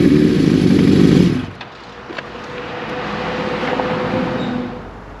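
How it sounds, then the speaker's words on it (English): A cold 1983 Suzuki GS1100 motorcycle engine idles on choke, loud and close for the first second and a half, then dropping to a lower, uneven running murmur. "it's going to stumble a little bit because the engine is still cold"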